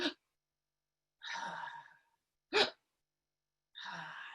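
A voice imitates a hospital ventilator's mechanical breathing, giving four separate breathy bursts alone in silence: short sharp puffs alternating with longer, hissing whooshes in a steady in-and-out rhythm.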